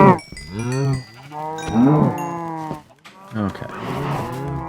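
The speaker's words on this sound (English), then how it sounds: "There's a lot of cows we need to take care of." Minecraft cows in a farm setting mooing several times in a row, close and fairly loud, the calls arriving in bursts with brief gaps between them.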